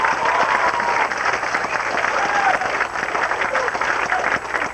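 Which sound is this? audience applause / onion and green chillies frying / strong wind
audience applause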